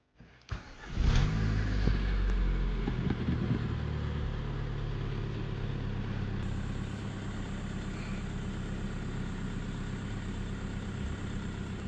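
A VW Mk4 Bora TDI diesel engine cranks and fires after its serpentine belt tensioner was replaced, catching with a sharp rise, then settling into a steady, even idle close by.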